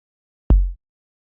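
A single kick drum hit from an organic-style beat: one sharp, loud thump that decays quickly into a deep low boom, alone against silence.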